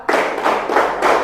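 A group of people clap in unison in a counted pattern, crisp synchronized claps in quick clusters, close and loud with no voices.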